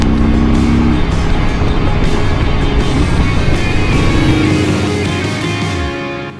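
A Harley-Davidson Low Rider S 114 motorcycle revs and pulls away with a loud, rumbling engine roar that holds strong, then recedes and fades near the end.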